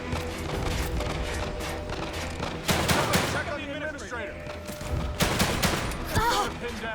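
Continuous rapid gunfire runs through a scripted shooting sequence in The Evil Within 2, with loud bursts layered over steady background noise and occasional voices under the shooting.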